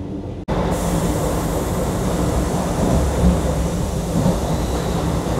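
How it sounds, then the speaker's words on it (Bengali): Vande Bharat Express 22301, running from Howrah to NJP, speeds along past Farakka with a loud, steady rumble and roar of wheels and carriage noise that stays constant, heard from inside the train. "দুর্দান্ত গতিতে ছুটে চলেছে বন্দে ভারত এক্সপ্রেস"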